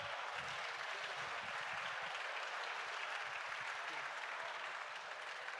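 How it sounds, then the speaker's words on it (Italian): Steady crowd applause from an outdoor festival audience in Ollolai, a dense continuous wash of clapping holding at an even level throughout, with faint voices underneath. "un applauso forte per Lavinia Peddio"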